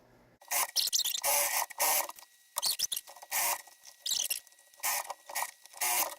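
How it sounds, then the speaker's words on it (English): A sewing machine stitches across a fabric seam in short, rapid whirring bursts separated by brief pauses, close and fairly loud with no talk. "we're going to stitch across."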